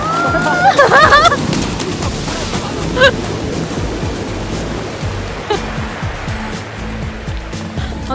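Ocean surf rolling onto the beach at Qixingtan on the Hualien coast, a continuous broad wash of breaking waves, loud and close, with brief children's shouts early on.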